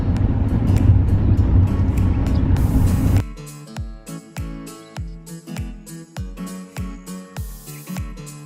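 Small mini-cars idle and rumble with rhythmic low thuds and sputters on a street in Dumaguete, Philippines, after a few seconds of loud, steady wind-buffeted engine noise; the engines sound close and uneven.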